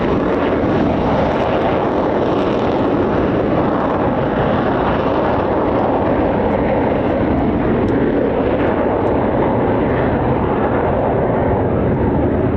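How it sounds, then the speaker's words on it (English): Steady, loud roar of an F-15 or F-35 fighter jet engine running continuously, broad and rushing, with no voices over it, at RAF Lakenheath. "Now you're going to hear the engine."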